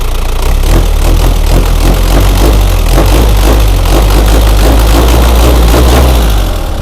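A Mitsubishi Dragon 2.5 diesel pickup engine is revved while its injection pump is tested, giving a loud, continuous rumbling drone with rising and falling throttle, close by and with no talk.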